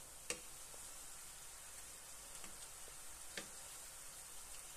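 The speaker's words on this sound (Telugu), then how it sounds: "పొంగనిగిన తర్వాత మళ్ళా హైలో పెట్టుకొని వేయించుకోవాలి" Urad dal karappusa frying in hot oil, a steady faint fizzing sizzle throughout with a few soft pops and ticks.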